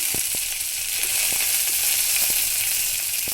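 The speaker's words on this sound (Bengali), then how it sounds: "এই কড়াইয়ের মধ্যে আমি আরেকটু কালো সর্ষে আর কারি পাতাটা দিয়ে দিচ্ছি" Black mustard seeds and curry leaves sizzle in hot oil in a kadai, giving a steady, close crackling hiss with small pops throughout.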